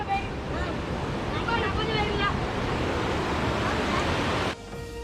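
A river flowing beside a road through a jungle village makes a steady rush of water, loud and close, with some wind buffeting the microphone and brief faint sounds over it before a sudden drop near the end.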